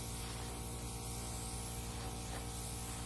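An airbrush sprays gel stain for fluid art in a continuous, even hiss that stays close and steady throughout, with no talking.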